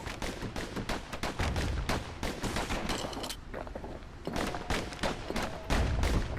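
Rapid pistol gunfire from two handguns in the video game Bastion, a dense run of sharp shots that fires almost without pause and stays loud from start to end, with only a brief lull midway and no talking.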